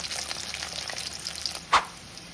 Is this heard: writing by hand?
no